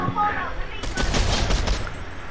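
Gunfire in the video game Fortnite: a quick flurry of rapid shots about a second in, heard over a voice.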